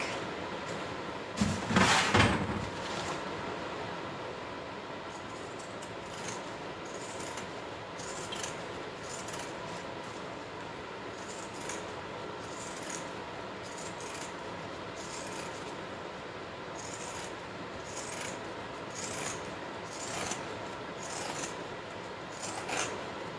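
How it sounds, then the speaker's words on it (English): Pinking shears snip through excess fabric, a quick cluster of crisp cuts followed by a long run of faint, regularly spaced snips and rustles, close by and quiet. "Now I'm going to use my pinking shears to get rid of all this excess fabric."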